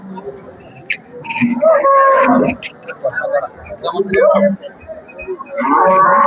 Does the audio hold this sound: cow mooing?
yes